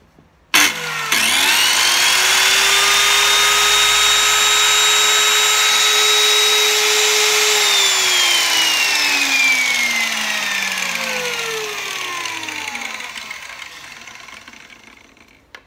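A Japanese domestic 100V electric saw with a 125 mm blade starts abruptly and whines loudly and steadily for several seconds while cutting, then winds down in a long falling whir.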